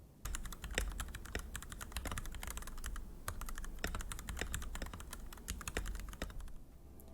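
Typing on a Keychron V1 mechanical keyboard fitted with Gateron Milky Yellow switches and KP Republic keycaps, a steady run of close, moderately loud keystrokes with no voice.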